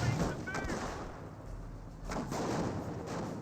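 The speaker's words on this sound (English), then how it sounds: "More rifle grenades firing away" Rifle grenades launch in a Company of Heroes 1 battle between British and Panzer Elite forces, giving a few dull, mid-distance thumps over a steady wash of battlefield noise.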